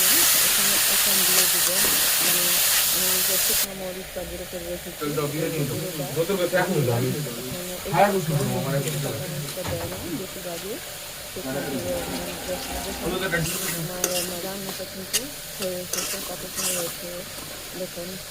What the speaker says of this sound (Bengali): দিয়ে দিলাম পেঁয়াজ কুচি লাল করে ভেজে নেব